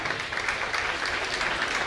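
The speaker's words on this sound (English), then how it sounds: "Audience, please clap." Steady, dense applause from an audience at a nursing institute ceremony, marking results of a boys' relay race; a continuous wash of many hands at moderate distance, with no voices.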